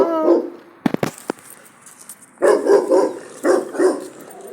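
A dog barks in close, loud bursts: a few barks at the start, a pause with sharp clicks, then two clusters of repeated barks later on, with no talk.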